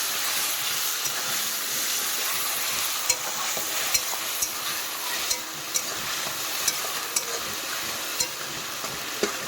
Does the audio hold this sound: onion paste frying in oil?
yes